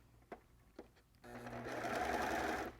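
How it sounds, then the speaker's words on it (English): A serger sewing machine stitches and trims fabric: a couple of soft clicks, then a fast continuous whirring run of about a second and a half that stops abruptly. "when you are sewing with a serger, there's a blade in here"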